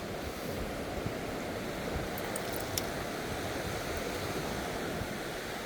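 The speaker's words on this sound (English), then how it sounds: "That river's quite loud today. It's definitely in a bit of a high flow state." The Wainuiomata River rushes past in high flow, a loud, steady broadband roar of churning water close by, unbroken throughout with a few faint higher ticks above it.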